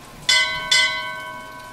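Two bright, ringing bell strikes in Bioshock Infinite, close and clear, each hit leaving a long shimmering tone that slowly fades.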